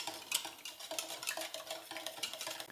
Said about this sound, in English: we're gonna give it a little whisk.